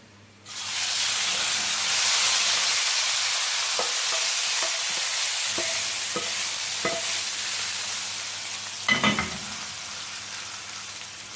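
Hot cumin tempering (tadka) is poured onto Punjabi kadhi with pakoras, bursting into a loud, steady sizzle and hiss that lasts throughout, with a few stirring clinks partway through.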